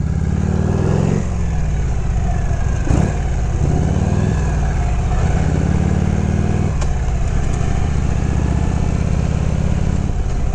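A 1970 Harley-Davidson FLH shovelhead motorcycle engine runs steadily and loud up close, a low pulsing idle with a few throttle blips and revs rising and falling across the span.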